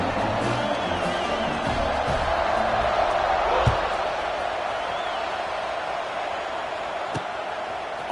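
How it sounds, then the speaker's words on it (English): Stadium crowd in the CFB26 college football video game buzzes steadily after a touchdown, a dense continuous roar of voices with a brief louder swell and a sharp thump midway. "this crowd is buzzing after that last score"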